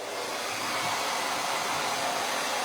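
A dryer blows on wet paste on a sign, producing a loud, steady, close-up whooshing roar that continues unbroken with no talking.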